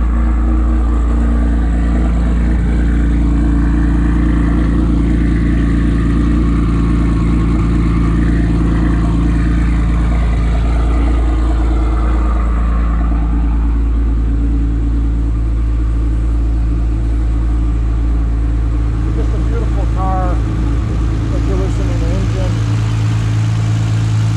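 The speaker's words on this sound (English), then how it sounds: "Take you in the rear so you can hear the exhaust." A 2014 Nissan GT-R R35 with custom carbon fibre bodywork idles at the rear, its exhaust giving a steady low drone throughout, with a brief engine swell partway through.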